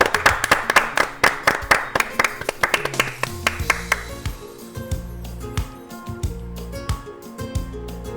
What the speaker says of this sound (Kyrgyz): Браво! Эң сонун кол чабууларды.